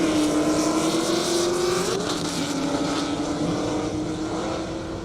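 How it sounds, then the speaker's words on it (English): A road race car speeds down a half-mile airstrip, its loud engine note holding a steady high pitch before dipping and climbing again as it passes, with no talk over the continuous roar. "It's a road race car."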